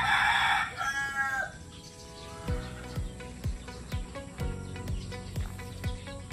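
A rooster crows loudly up close, then a rapid series of sharp, regular beeps or clicks follows amid farmyard background noise.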